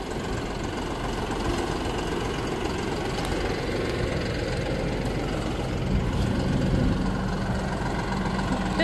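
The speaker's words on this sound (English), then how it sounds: "Somebody decided they needed a bigger tractor." A big farm tractor's engine idles close by in a steady, unbroken low rumble with a faint knock. No one speaks over it for the full stretch.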